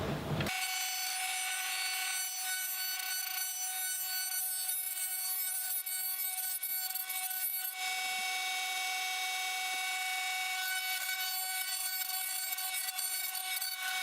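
Bamboo tube rotated against an abrasive to round its cut edge, giving a steady, continuous dry rasping and grinding that holds close and even throughout with only slight shifts.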